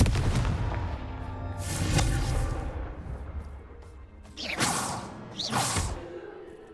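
Confringo explosive spell cast in Hogwarts Legacy, a few sharp whooshing blasts with booming impacts separated by quieter stretches, the final two bursts landing close together near the end.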